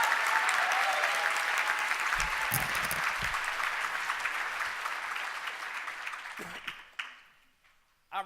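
Sustained audience applause at the opening of a mental health cultural competency summit, a dense even roar of clapping that slowly fades over about seven seconds before cutting off, with a few low voices mixed in.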